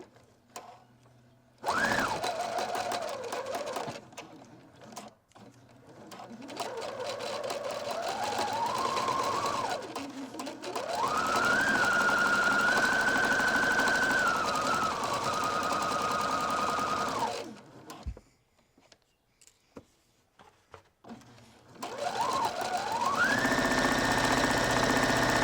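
A sewing machine stitches a straight hem along a drop cloth in several bursts of whirring, rising and falling in pitch, separated by brief pauses, close and loud with no talking.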